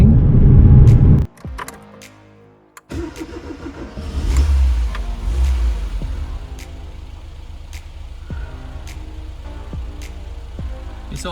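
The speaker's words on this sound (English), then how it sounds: "It's on, I'll give it rev." A classic barn-find Ford Fiesta engine, just fitted with a tightened belt, loud at first, then cutting out briefly, then restarting and blipped with a rev before settling into a steady idle, heard close up with small ticks and clicks.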